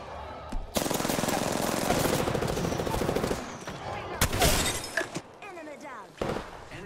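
Rapid gunfire and impact clatter in Apex Legends, a sustained dense burst followed by scattered sharper shots and breaking sounds, loud and close within the game mix.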